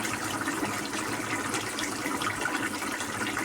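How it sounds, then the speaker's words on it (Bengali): Water gushes steadily into a pan of sautéed potato and tomato curry, a continuous, fairly soft pouring rush lasting a few seconds with no talking. "তো আমার আলু টমেটোটাও কষানো হয়ে গেছে, জল দিয়ে দেবো।"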